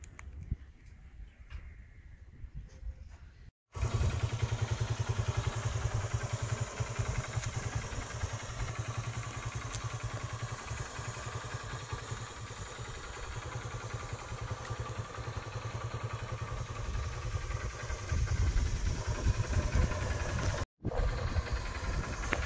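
A 14-year-old Honda Dazzler motorcycle idles with a steady low engine hum and faint clatter, broken by a brief cut near the start and another near the end.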